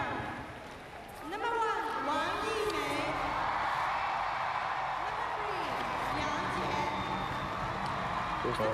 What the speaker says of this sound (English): Here's the biggest cheer for the Chinese players as they come onto court